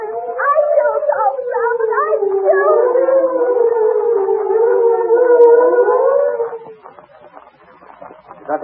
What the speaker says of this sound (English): You hear that siren, Miss Thompson?